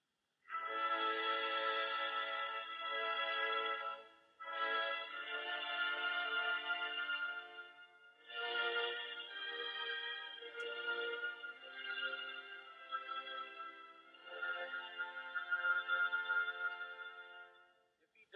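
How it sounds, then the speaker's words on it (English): An orchestral brass section plays a sustained, singing Brahms passage in a series of long phrases with brief breaks between them, fairly faint and distant-sounding with no talking. "it is the conductor's job to see that the brass sings here"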